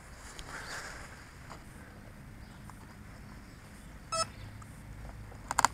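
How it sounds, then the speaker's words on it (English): An electronic device gives two short, sharp beeps near the end, over quiet background noise with a faint earlier chirp. "I know it bleeps twice"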